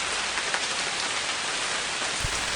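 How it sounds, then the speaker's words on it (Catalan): Steady, loud rain falls on surfaces, a dense continuous hiss with occasional drops and no voices. "es posa a ploure"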